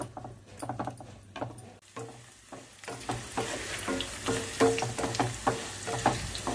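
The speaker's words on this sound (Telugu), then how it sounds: "వేగిపోవాలి ఇవి కొంచెం" Ginger pieces for pickle fry in a pan, crackling and sizzling steadily, with intermittent stirring scrapes and clinks that grow busier and louder toward the end.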